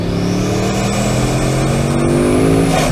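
A hypercar engine with sequential turbos revs hard and loud, its pitch climbing steadily as the turbocharging switches from two turbos to four, with a rising whine above the roar.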